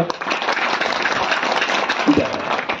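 A crowd at a kirtan claps continuously in a dense, steady burst of applause, with voices faintly mixed in beneath.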